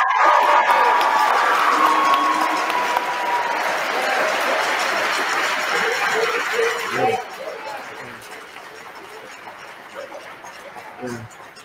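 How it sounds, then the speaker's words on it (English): A crowd claps and cheers for custodian Leroy Harper, loud and busy at first with shouts mixed in, then fading to scattered claps and murmurs after about seven seconds. "Give him a round of applause,"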